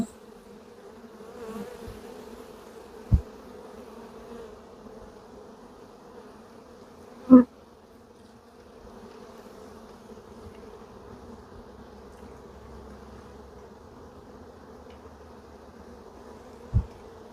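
Honey bees buzz steadily around an open hive during a nuc-to-hive transfer, a soft continuous drone from many insects nearby, broken by a few sharp knocks or clicks.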